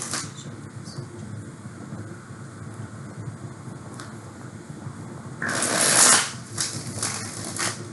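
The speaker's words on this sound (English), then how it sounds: "One more shuffle, guys." Tarot cards are shuffled in a single loud, crisp riffling burst of about a second, near the microphone, following a stretch of quiet room hiss.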